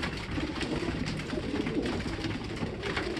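Pigeons coo softly in a loft, their low murmuring calls blending into a continuous, faint bed of ambient noise with no one speaking.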